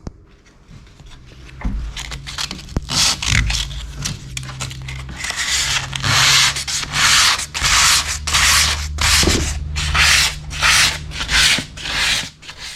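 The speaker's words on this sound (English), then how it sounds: "the next step is just to lightly sand them" Finished fillets sanded lightly by hand give a rhythmic series of close, raspy back-and-forth strokes, about a dozen pulses growing steadier and louder, with faint knocks underneath.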